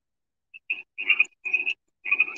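A Pacific tree frog calls in a series of short, raspy two-part croaks, four or five bursts in quick succession, close and clear against silence.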